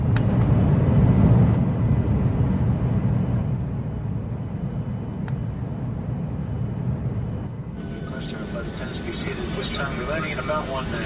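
Airliner engine roar during takeoff, a loud broadband rumble that swells early then settles into a steady cabin drone, with a brief shift in tone near the end.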